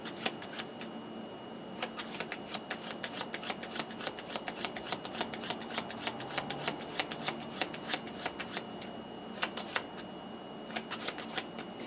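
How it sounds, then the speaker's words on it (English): Rapid riffling and snapping of playing cards being shuffled, a steady flurry of crisp clicks with short pauses between bursts, close and alone. "just that fast you've shuffled the deck"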